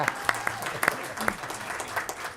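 Audience at a city council meeting applauding a lieutenant, scattered individual claps popping over a low room murmur, fairly sparse and near.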